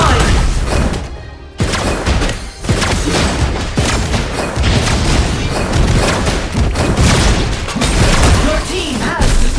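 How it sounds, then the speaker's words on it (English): A turret is destroyed in a ranked online battle game: loud, repeated booming blasts and crashing impacts pile up in quick succession, with a brief lull before the barrage resumes. "Your team has destroyed a turret."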